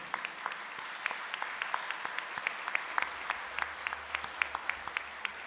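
Audience applause at a senior inspiration awards ceremony, a moderate steady patter of many hands clapping with distinct sharper claps standing out, heard at some distance.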